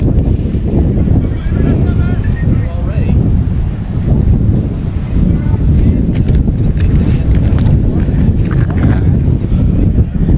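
Strong wind at a baseball game roars and buffets the microphone nonstop, a loud rumbling rush with no clear break across the whole stretch.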